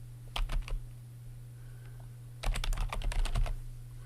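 A computer keyboard is tapped close up to type a comment into a timesheet, a short burst of quick clicking keystrokes, then a pause and a longer run of rapid typing.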